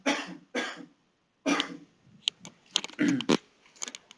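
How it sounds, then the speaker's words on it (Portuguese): Several harsh coughs come in bursts, close to the microphone, separated by short pauses, followed by throat clearing and small mouth noises. "eu vou ter que tossir"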